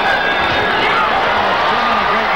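A boxing crowd at the Olympic Auditorium roars and cheers steadily in a dense, continuous wall of noise, with an announcer's voice faintly audible underneath.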